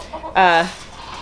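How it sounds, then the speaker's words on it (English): A talkative chicken on a small farm lets out one loud, close, squawking cluck, with faint quieter clucks and farm noise before and after. "So very exciting and very chatty chicken."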